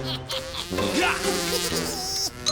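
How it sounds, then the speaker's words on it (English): A mosquito in an Incredibox Sprunki animation, a close, whining insect buzz with wavering pitch that goes on for the whole clip. "This mosquito is special."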